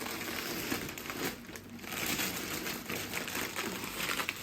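Plastic garbage bags rustle and crinkle continuously up close, a soft papery crackling with small bumps of handling.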